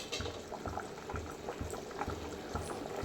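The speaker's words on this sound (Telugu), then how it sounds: "చూసారా మన రైస్ మంచిగా ఉడుకుతుంది" Rice for tomato pulav bubbling in a pot, a close, continuous boil with rhythmic popping bursts and gurgles recurring every half second or so.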